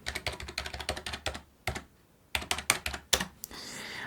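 Rapid keyboard typing in close bursts, with clacking keystrokes, a brief pause, then another flurry of keys.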